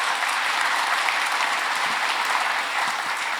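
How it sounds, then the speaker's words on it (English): An audience breaks into sustained applause during a Q&A with General John F. Kelly, a dense, even roar of many hands clapping at once, loud and continuous throughout with no voices over it. "I'll take the applause"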